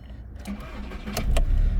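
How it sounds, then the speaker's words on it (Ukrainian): A Skoda Octavia car engine cranks briefly and starts, rising into a low rumble close by, with faint voices in the background. "Автомобіль заводиться з півоборота, працює рівно стабільно справно."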